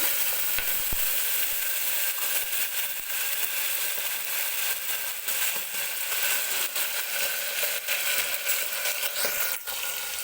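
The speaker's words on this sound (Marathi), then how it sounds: "वाटाणा सुद्धा 1-2 मिनिटं मी तेलामध्ये परतून घेतलेला आहे." Green peas and whole spices fry in hot oil, a continuous close sizzle with light stirring clicks and scrapes throughout, no voices.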